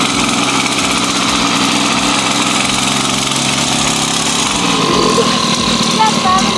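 A motorcycle engine runs steadily and loudly nearby as a young girl rides it, with an adult's voice talking over the constant buzzing drone.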